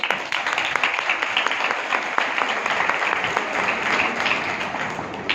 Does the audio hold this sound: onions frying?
no